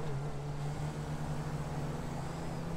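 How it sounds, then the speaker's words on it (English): A steady engine drone with a sustained whine runs throughout, loud and unbroken, like a turbocharged car idling; a customized limousine in the video game GTA 5. "as you can hear, there's the sound of the turbo"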